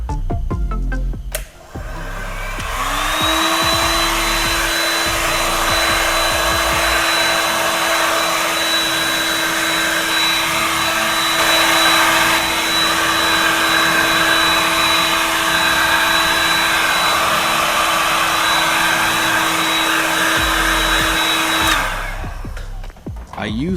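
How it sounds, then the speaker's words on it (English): A heat gun blows hot air onto a plastic pipe, holding a steady loud roaring hiss with a high whine for about twenty seconds before cutting off, with brief handling noise at either end. "Then I brought my heat gun and started heating up the plastic pipe"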